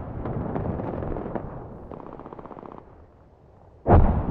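Gunfire in Apex Legends: a long rumbling burst of shots with rapid rattling bursts in the middle, then a sudden loud blast near the end.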